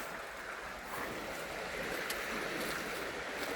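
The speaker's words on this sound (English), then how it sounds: "But see the water coming through here." Water trickling and seeping through crumbling old stone walls in a disused quarry, a steady broadband wash of running water, fairly loud and continuous, with no voices.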